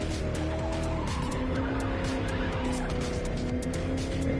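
A hypercar in The Crew 2 roars loudly and continuously with tyres scrubbing and skidding, a dense engine tone holding throughout.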